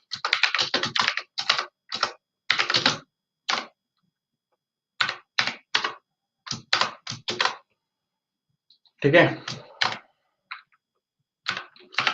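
Close, clicky typing on a computer keyboard in quick flurries broken by pauses, with a single word spoken briefly.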